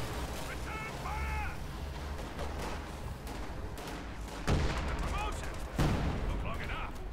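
Aimed shot firing in Company of Heroes 2 from a Puma armored car, sharp cracks amid other distant battle gunfire, with a commentator talking over the game sounds.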